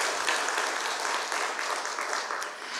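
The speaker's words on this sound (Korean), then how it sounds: "큰 박수로 다시 한번 격려하겠습니다." A church congregation applauds its choir in a steady wash of clapping that holds even and dense for a few seconds, with no voices over it.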